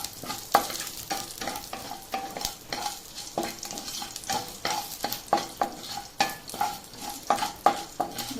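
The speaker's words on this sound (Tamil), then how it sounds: "ஆயிலில் இன்க்ரீடியன்ஸ் எல்லாம் நல்லா வறுபடணும்." Capsicum thuvayal ingredients and white sesame seeds roast in hot oil in a pan, with steady sizzling and a rhythmic run of scraping stir strokes, close and clear, with no talking.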